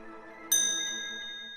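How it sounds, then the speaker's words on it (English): A bright chime rings out once with a sharp attack, then sustains and slowly decays with clear ringing overtones over a faint low background murmur. "that same chime ringing in the background"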